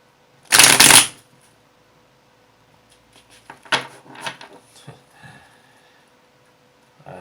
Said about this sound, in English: I always keep shuffling until they seem just right